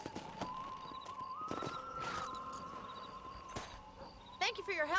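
A horse's hooves clop at a walking pace in the video game Red Dead Redemption, joined by a soft steady musical tone, with a brief burst of other game sound near the end.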